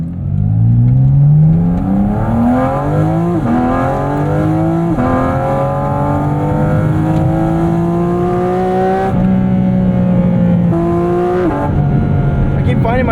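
Porsche 718 Cayman GT4 RS engine revving hard on a canyon drive, loud and close, climbing repeatedly toward 9,000 RPM with sharp drops at each upshift.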